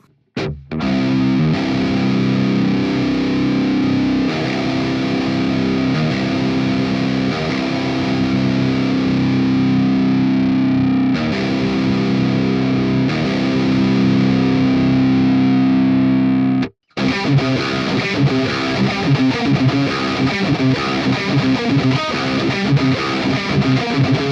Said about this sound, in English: This amp also takes a boost really well if we just pull the gain back a little bit